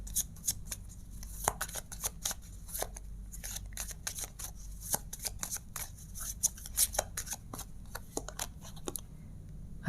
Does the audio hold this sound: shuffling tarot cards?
yes